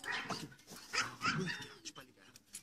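A pet dog named John Lee barks and whimpers indoors in short, uneven bursts, with people talking over and around it.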